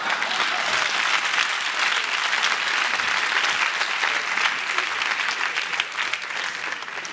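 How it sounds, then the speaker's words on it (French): Audience applause at a live comedy show styled as a mock parliament, a loud, close crowd clapping continuously with dense, crackling hand claps that hold steady before easing slightly at the end. "Il y a des gens, ils n'ont rien compris, ils applaudissent seulement."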